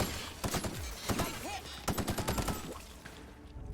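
Rapid bursts of automatic gunfire from a fast-firing weapon in The Outer Worlds, sharp repeated shots in quick clusters, loud and close, with game sounds between bursts.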